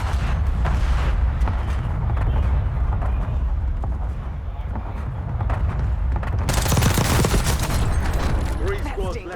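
Dense, sustained gunfire from a Call of Duty Warzone match, with rapid bursts and heavy booms layered throughout and a louder, harsher volley near the end, voices mixed faintly underneath.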